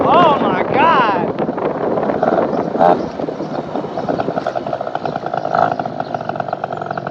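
A Polini Corsa 70cc engine on a Vento Triton R4 runs at quarter throttle with a loud, buzzy two-stroke drone close to the microphone, and an excited voice shouts over it at the start.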